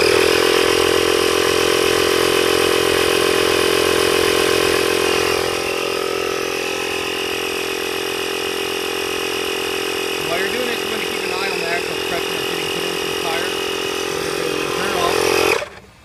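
Portable tire inflator compressor for a Chevrolet vehicle runs with a loud, steady buzzing drone from start until it cuts off abruptly at the end, with faint talking partway through.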